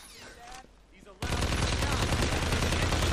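Dense rapid gunfire erupts suddenly in Hitman: Absolution after a brief quieter stretch, then continues as a sustained, loud burst of overlapping shots.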